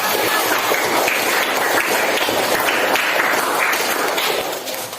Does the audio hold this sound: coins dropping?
no